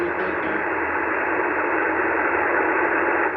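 Steady, dense hiss of radio static fills the whole stretch at a constant loud level, with no voices or breaks.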